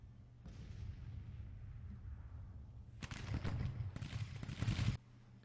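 Cannon and artillery fire from the Civil War strategy game Grand Tactician rumbles in the distance, then erupts in two dense, loud volleys of overlapping booms before cutting off.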